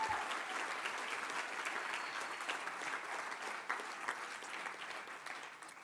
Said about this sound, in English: If there's applause, it should come now, you guys